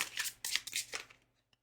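Tarot cards being shuffled up close: several quick papery riffling bursts over about a second, then a faint single tap as the deck settles into quiet.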